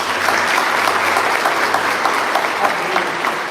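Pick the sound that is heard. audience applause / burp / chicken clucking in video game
audience applause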